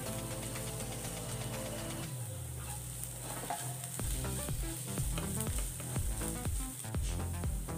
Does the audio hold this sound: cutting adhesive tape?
no